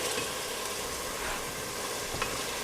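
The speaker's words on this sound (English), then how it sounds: "I'm not gonna make you watch me cook green peppers and onions" Green peppers and onions cook in a pan with a dense, even sizzle and hiss, close and constant, broken only by faint stirring taps, with no speech.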